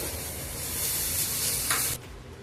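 Chopped vegetables and paneer sauté in a pan with chilli powder and garam masala for a momo filling, giving a steady, fairly soft hiss that cuts off abruptly near the end. No one speaks.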